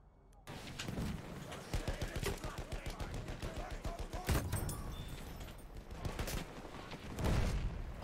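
Rapid gunfire crackles through a Battlefield 1 match, volleys of shots rattling steadily at moderate distance with heavier blasts mixed in, alongside battlefield din and low voice chat.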